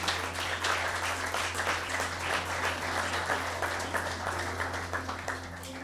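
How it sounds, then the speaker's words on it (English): Sustained audience applause, dense and even, continuing for several seconds with no talking. "Clap now."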